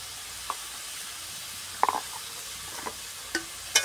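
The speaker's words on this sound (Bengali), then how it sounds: "এখন নেড়ে নিব" Tilapia pieces with salt, turmeric, chili and coriander powder fry in a pan with sponge gourd, giving a faint steady sizzle broken by a few soft scrapes and clicks of a stirring spoon.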